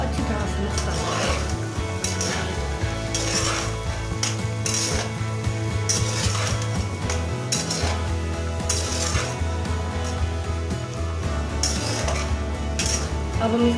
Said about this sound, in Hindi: आधा चम्मच वाइट मिर्च डालेंगे और इनको अच्छी तरह से मिक्स कर लेंगे।